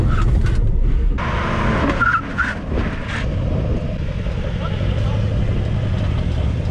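Mercedes C63S AMG and BMW M4 Competition braking hard from 60 km/h, a close car noise with short tire squeals and skidding over a rumbling engine, with a voice speaking.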